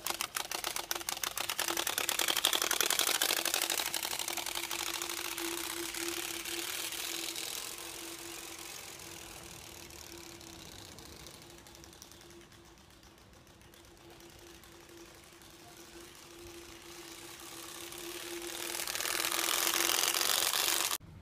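A TurboSpoke exhaust on a bicycle, running a 250cc trail card against the spokes, makes a continuous rapid buzzing rattle that stays loud and steady, eases off midway, then swells again near the end.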